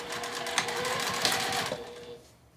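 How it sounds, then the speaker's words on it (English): A sewing machine stitches a seam on a fabric lunch tote, running continuously and close with a rapid mechanical whir and small rhythmic clicks as it backstitches, then slowing and fading to quiet. "I start in the middle and I get my seam allowance and I backstitch here first."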